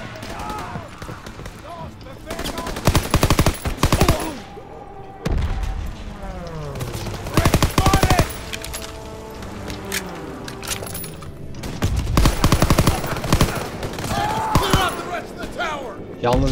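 Gunfire in the World War II shooter game Call of Duty WW2, with loud bursts of shots and booms at intervals over continuous game noise, while a voice talks throughout.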